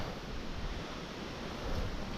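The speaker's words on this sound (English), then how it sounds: "It's windy" Wind gusts across an open soybean field, a steady broadband rush buffeting the microphone with a slight swell toward the end, no voices present.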